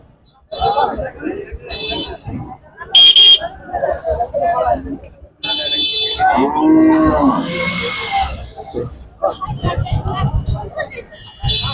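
A Holstein Friesian cow moos with a long, low call in the middle at a cattle market, amid people talking and a busy crowd background, with a brief buzzing tone.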